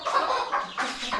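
A chicken on an Australian farm gives a quick run of close, clear clucks, several short bursts in about a second, loud and alone without talk.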